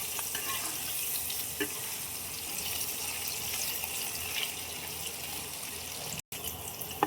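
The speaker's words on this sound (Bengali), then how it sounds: "পনিরটা উল্টে দিলাম এই পিঠটা ভাজার জন্য" Paneer pieces frying in hot oil after being flipped, a steady close hiss and crackle with faint bubbling throughout, briefly cut near the end.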